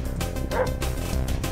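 A cartoon dog in the video game Pizza Dude lets out a rapid run of yipping barks and whimpers, loud and close, over a busy game soundtrack without talking.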